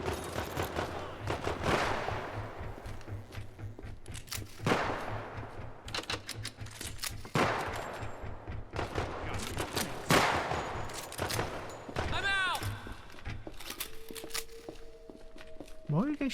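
Gunfire in the video game Project Silverfish, repeated bursts and scattered shots spread across the stretch, mixed with footsteps and game effects, with a voice talking over it.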